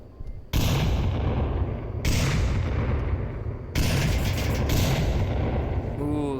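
Grenades detonate in the VR shooter Onward during a competitive match, three heavy, loud booms in quick succession, each with a long rumbling tail, under a commentator's voice.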